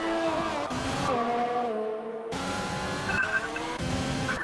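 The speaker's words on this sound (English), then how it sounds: "we've got the first cars coming out onto the circuit now" Race cars pulling out onto a circuit, engines revving and shifting with tyre squeal, one car dropping away briefly before more engine noise returns, moderately close.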